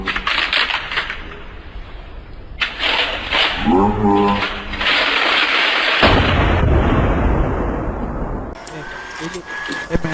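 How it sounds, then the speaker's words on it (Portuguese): Rapid bursts of gunfire from the Combat Arms online shooter come in clustered volleys with explosive pops, heard beneath ongoing voice chat between players. "Nossa, salva de tiro."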